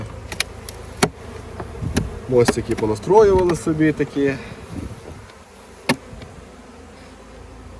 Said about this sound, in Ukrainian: бджоли тут є непогано